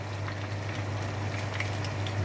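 Fried chicken crackles and sizzles in hot oil, a steady, dense frying hiss with a low hum beneath and no talking.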